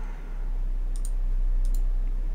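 A mouse clicks the weld button in 3ds Max, giving two quick pairs of crisp, close clicks about half a second apart over a low steady hum.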